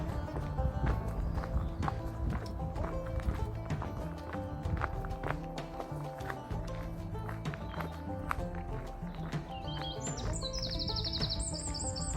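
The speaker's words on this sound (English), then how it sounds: "apart from me and the birds, as you can hear. Robin." Birdsong trills and chirps over a busy, steady background of rustling and footsteps on a countryside walk, with a robin's clear high warbling song near the end.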